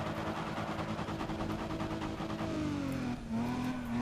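Race car engine in the video game Need for Speed ProStreet, a loud, continuous high-revving drone that shifts pitch, dipping and climbing again near the end.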